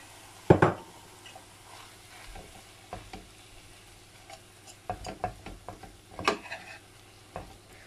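Mashed potatoes are mixed in a pan with scattered scrapes and knocks of a utensil against metal, some sharp and close, over a faint background sizzle.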